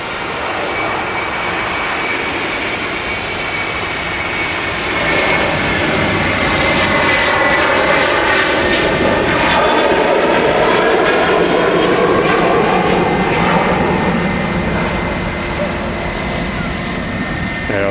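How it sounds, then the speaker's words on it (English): A Lufthansa airliner blasting off from Manchester Airport, its jet engines building from a rushing roar into a loud, sustained thunder with sweeping whining tones that rise and shift as it climbs away, a voice talking briefly over it. "3:30 blasting off with one of my favourite Lufthansa's"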